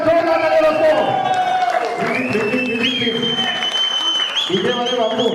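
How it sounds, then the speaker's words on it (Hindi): Applause and cheering from a seminar audience greeting a welcomed guest speaker, sustained for the whole stretch over prominent tonal sounds and voices. "Welcome to mister Sudeep Ganguly sir, जोरदार तालियां दोस्तों।"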